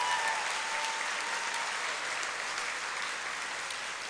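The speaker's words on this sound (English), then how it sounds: "Please give him a round of applause." Steady audience applause fills a San Pedro homelessness forum, a dense continuous wash of clapping that holds for several seconds and eases slightly toward the end, with no talking over it.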